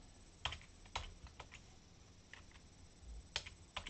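Quiet, close typing on a computer keyboard: a handful of sharp, irregular key clicks in two short bursts against a faint background hum, with no talking.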